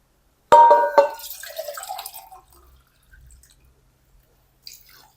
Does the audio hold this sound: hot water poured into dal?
yes